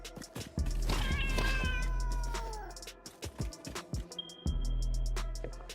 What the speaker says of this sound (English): started hearing cats